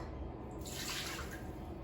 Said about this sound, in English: I'm going to add 1 cup of water to the Instant Pot